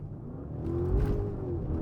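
A 600-horsepower Audi RSQ8 accelerates hard from inside the cabin, its engine note swelling from a low rumble into a loud rising roar that holds steady to the end.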